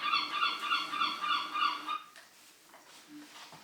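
A seagull gives a rapid run of harsh, nasal squawks for about two seconds, then the calls stop and only faint, quiet background sounds remain.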